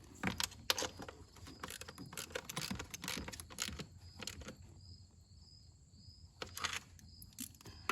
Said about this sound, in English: I'm gonna grab a ratchet and we'll get these snugged up.